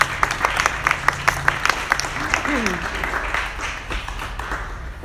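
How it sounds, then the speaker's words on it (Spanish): An audience at a book presentation applauds to welcome the author of a novel. Scattered but firm clapping fills the room while a voice talks over it, and the applause fades out toward the end. "Le damos la bienvenida y por favor un fuerte aplauso."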